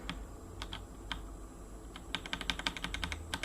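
Keys clatter on a computer keyboard in an i3/bspwm Linux desktop setup, a few scattered taps first and then a quick, steady run of close, crisp keystrokes, with no voices.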